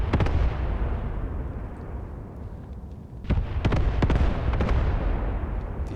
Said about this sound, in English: Here's the mortar strike. We have a battery of 6 8cm mortars standing by.